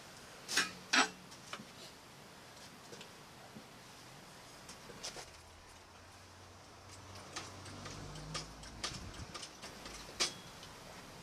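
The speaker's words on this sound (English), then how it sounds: "Here I'm jacking it up to get more clearance" An Arlen Ness chopper motorcycle is jacked up in a workshop. Faint, sparse clicks and light metallic ticks come at irregular intervals over quiet background noise, with a couple of sharper knocks early on.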